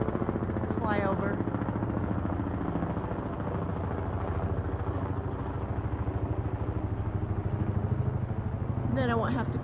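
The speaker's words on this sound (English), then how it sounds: "we have a helicopter." A helicopter flies overhead outdoors, its throbbing rotor and engine drone loud and continuous throughout, with faint birdsong chirps near the start and end.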